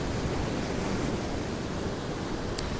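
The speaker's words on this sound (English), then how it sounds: "When you think that these waves will have formed way, way, way out at sea in weather systems" Sea waves breaking on the beach at Cleveleys near Blackpool during Storm Otto, a loud, steady broadband roar of surf and wind with no distinct individual crashes and no voices.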